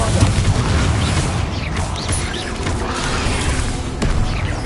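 Spell explosions from Bombarda cast in Hogwarts Legacy, a dense, loud wash of booming blasts and crackling impacts rolling on for several seconds, with a sharp burst near the end over game combat noise.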